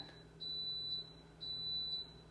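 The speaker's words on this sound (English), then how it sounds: "Is that an alarm?" A smoke alarm gives two faint, high electronic beeps about a second apart, heard indoors over a steady low room hum.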